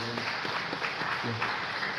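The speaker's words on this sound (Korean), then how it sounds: "우리 박수로 한번 우리 감사를 표현하겠습니다." A church congregation applauds during a Sunday worship service, a short burst of clapping from a crowd in a hall, moderately loud and continuous.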